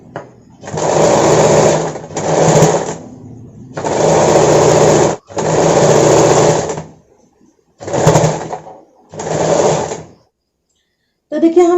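Sewing machine stitching a finishing seam along a blouse neck band, in six loud close bursts of rapid whirring, each a second or two long, separated by short pauses.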